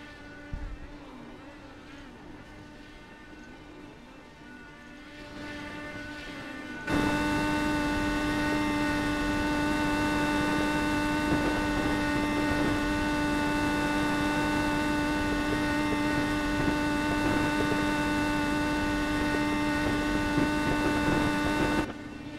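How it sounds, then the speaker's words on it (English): An Indy car engine in a racing video game drones loudly and steadily at Iowa, a sustained tonal roar that starts quieter and jumps up sharply partway through, then holds at a constant high level. "you can still hear Chris Stouffer's engine just roaring away"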